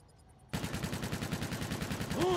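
Rapid automatic fire from Infinite Warfare opens suddenly after a quiet half-second and keeps up as a steady, loud, even rattle to the end, with no talking.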